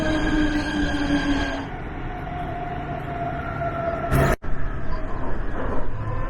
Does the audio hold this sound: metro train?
yes